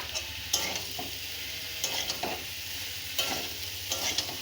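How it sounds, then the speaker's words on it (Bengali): Raw vegetables, potato and drumstick among them, fry in a pan with spices and salt as a spoon stirs them. The scrapes come in repeated strokes over a continuous close sizzle, with no one talking. "ওই জন্য একটু ভেজে নিলাম মশলার সাথে, তারপরে লবণটা দিলাম"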